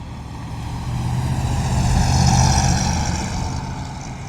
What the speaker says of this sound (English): It does make a good noise though. A nice deep V8 rumble.